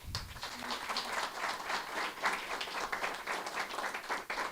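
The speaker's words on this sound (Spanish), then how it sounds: "Damos un aplauso a Dios." Church congregation applauding at a Sunday family service, a steady wash of clapping throughout, moderately loud and fairly close, with no clear talk over it.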